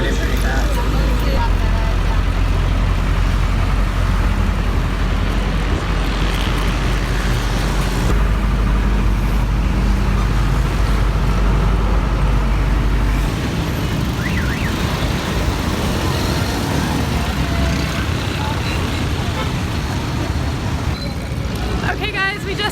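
Dense city traffic roars around a public bus in Karachi, with engines, horns and passing vehicles forming a loud, continuous wash while people talk over it throughout.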